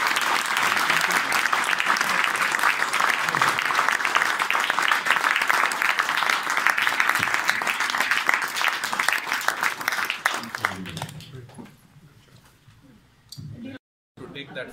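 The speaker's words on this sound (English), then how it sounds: "we can have the biggest round of applause for Sir" Audience at an Atlanta community event applauding the Indian ambassador to the US: loud, dense clapping from a sizeable crowd, sustained for about ten seconds before fading to scattered claps and quiet.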